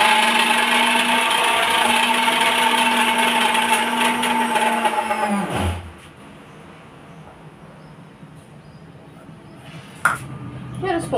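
A mixer grinder whirs loudly while grinding crushed peanuts into peanut butter, a steady high motor drone that cuts off abruptly halfway, followed by quiet and a few clinks.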